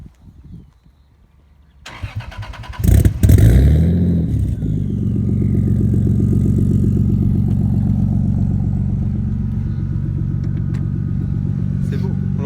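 A Toyota Supra bi-turbo cranks and fires up with a sharp burst, then settles into a loud, steady, throaty engine drone while driving gently, with people talking over it.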